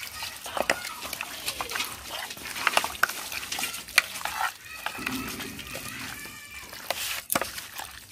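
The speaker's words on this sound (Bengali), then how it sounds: "এবার ভালো করে মেখে নেব" Chicken is mixed by hand with lemon juice, garlic paste and mustard oil, producing soft, wet squelching and irregular clicks close up.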